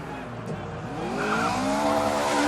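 A race car spins donuts at the Race of Champions 2015 on a fluid-slicked track, its tires shrieking in long, rising and falling squeals over a steady engine roar that grows louder throughout.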